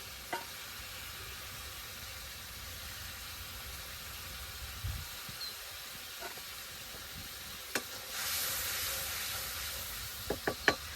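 Spice paste for a fish curry frying in a pan in a village kitchen, a soft steady sizzle and hiss with a few sharp stirring clinks and a brief louder burst of steam near the end.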